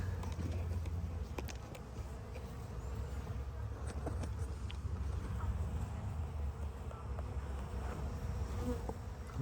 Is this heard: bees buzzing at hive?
yes